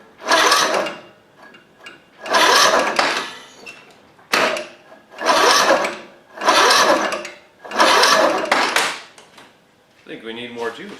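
A Toro zero-turn mower engine cranks in five long bursts, each a couple of seconds of churning whir separated by brief pauses, followed by a short voice at the end.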